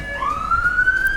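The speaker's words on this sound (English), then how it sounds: "We're gonna just wait for that siren to go." A siren wails outside, a single rising tone that climbs and holds, loud and clear with no talking over it.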